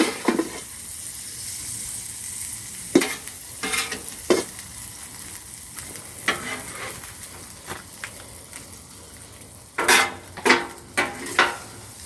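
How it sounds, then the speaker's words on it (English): Sausage sizzles steadily on a Blackstone griddle as it is stirred into rice for jambalaya, with spatula scrapes and clanks of metal on the hot flat-top rising in sharp bursts over the constant frying hiss. "I'm just going to take the sausage, I'm going to go right on to the rice."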